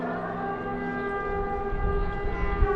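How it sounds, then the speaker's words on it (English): An air raid warning siren in Ukraine sounds as a loud, sustained, layered tone that holds steady and fills the space without a break. "I've never in my life heard a siren like that"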